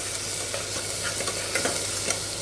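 Masala paste being stir-fried in oil for kala vatana usal, an even close sizzle broken by repeated scraping strokes of a spoon against the pan.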